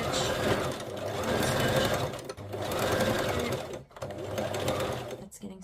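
A sewing machine back stitching fabric scraps on large tabs, whirring loudly up close in three sustained bursts separated by brief stops.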